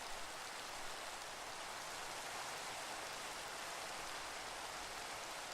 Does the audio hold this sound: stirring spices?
no